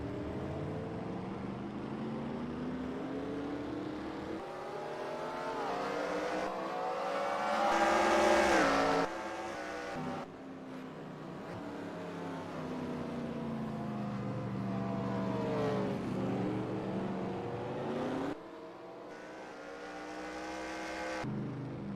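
110 race cars run a heat race at Eldora Speedway, with their engines droning from a distance in rising and falling pitch sweeps as the pack laps the track.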